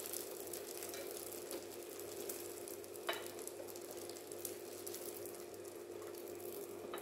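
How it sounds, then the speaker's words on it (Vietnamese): Wheat gluten frying in hot oil in a pan, a steady dense sizzle and crackle with a few brief sharper pops, close and continuous with no voices. "Bây giờ mình chiên vàng mình vớt ra nha."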